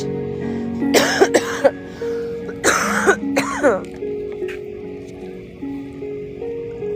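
Several sharp coughs in two short bursts, close and fairly loud, with a low steady hum and a faint rustle in the background.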